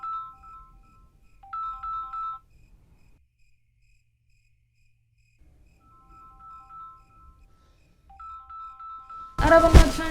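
A mobile phone ringtone plays a short bright melody that repeats with quiet gaps between, at a fairly low level. A voice briefly breaks in at the very end.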